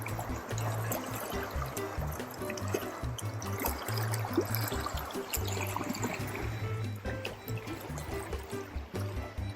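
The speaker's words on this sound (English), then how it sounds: "But this is a beautiful river." A mountain river in Sequoia and Kings Canyon National Parks rushes over rocks in a steady, dense wash of water noise that stays at an even loudness throughout, with no voices.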